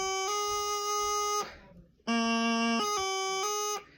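A practice chanter plays a G doubling from low A: a steady reedy note sounds first, breaks off, then returns with a quick grace tap before settling back onto a sustained higher note, close and clear.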